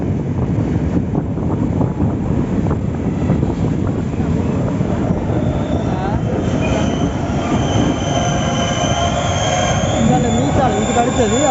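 A Sri Lankan train heading to Jaffna rumbles loudly along the rails, with rhythmic clatter of wheels and rising metallic squeals, plus wind buffeting the microphone, continuous throughout.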